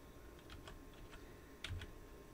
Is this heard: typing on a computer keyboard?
yes